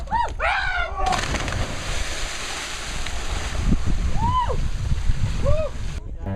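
A loud splash of water as someone jumps off a boat into Ha Long Bay, followed by churning surf and wind, with whoops and shouts from people nearby.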